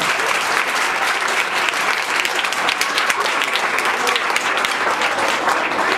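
Steady, dense applause from a folk music gathering (lok dayro) audience, clapping continuously at close range for a musician who played a water pot (gagar) as an instrument.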